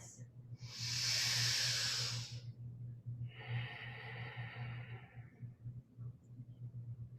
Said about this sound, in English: About 3 slow, full breaths